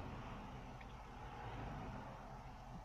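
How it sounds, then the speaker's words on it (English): Road traffic passing along a busy road, a steady, fairly faint roar of vehicles that continues without a break and with no clear individual pass-bys. "you have to excuse the traffic noise"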